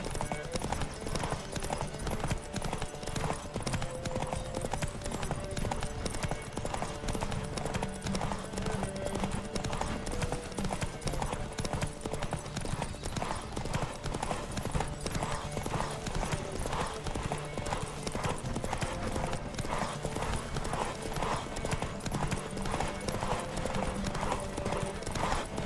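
Horse hooves gallop in rapid, rhythmic clip-clop during a race in the video game The Witcher 3, steady and close, with occasional voices and game sounds mixed in.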